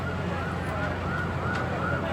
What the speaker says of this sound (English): Oh no, I see an ambulance.